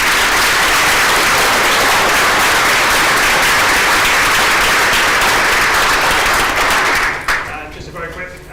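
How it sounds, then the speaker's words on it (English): Conference audience applauding a panel, a dense, loud burst of clapping that fills the room and holds steady before quickly tapering off near the end, with a voice briefly audible as it fades. "please give the panel a round of applause."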